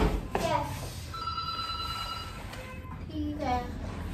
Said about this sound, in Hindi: वो फोन आ रहा है नीचे से.